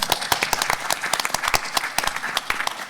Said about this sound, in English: I'll ask you to give a big round of applause for our panelists